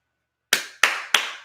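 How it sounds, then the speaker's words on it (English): Three crisp, close hand claps come in quick succession after a moment of silence, each ringing briefly in a small, quiet space. "Jason Garrett clap."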